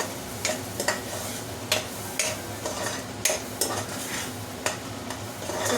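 Goat brain frying over a high flame, a steady sizzle broken by regular taps and scrapes of a spoon stirring against the pan, close and fairly loud, no speech.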